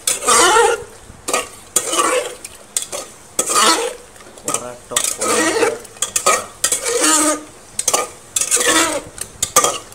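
Masala frying in a pan is stirred with a utensil, giving repeated loud scraping and clattering strokes in irregular bursts over a steady sizzle, close up with no talk.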